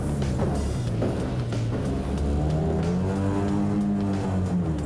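A small aluminium boat's outboard motor roars and revs steadily during a dinghy race in Australia, its pitch climbing and wavering, loud and close throughout with no voices.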